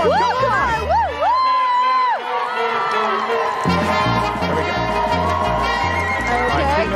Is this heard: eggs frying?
no